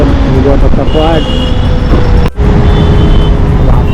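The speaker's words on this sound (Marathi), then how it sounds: "अकोलाचा ब्रिज उतरतो आणि ट्रॅफिक बघा लेफ्ट साईडला पण वरना पण ट्रॅफिक होतं. पूर्ण जाम झालं ट्रॅफिक." Congested road traffic after the Akola bridge, heard from a Hero Vida electric bike: a dense, loud, steady rumble of cars, buses and trucks with a horn-like tone and a person talking over it.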